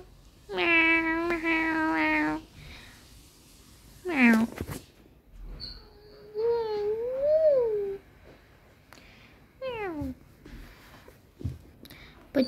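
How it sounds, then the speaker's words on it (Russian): A kitten meows several times at home, with long, high, drawn-out cries and shorter rising and falling mews separated by brief pauses. The sounds are close and clear. "У нас есть еще котенок."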